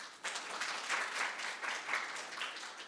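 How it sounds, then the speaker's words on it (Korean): An audience at a smart city and logistics investment briefing applauds steadily and warmly throughout, a dense wash of many hands clapping at moderate distance, swelling slightly in waves without a break. "소개해 드릴 때마다 한 분 한 분 따뜻한 박수로 맞아주시면 감사하겠습니다"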